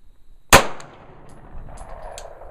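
A single sharp gunshot at live-fire target practice cracks out close and loud, then decays quickly into quiet outdoor background.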